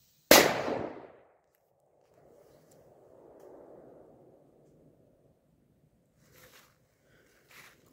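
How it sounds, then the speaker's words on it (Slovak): A single sharp firecracker bang outdoors, loud and close, decaying over about a second, followed by a faint rumbling tail and two small distant pops later. "dnes sa ideme odpaliť petardy"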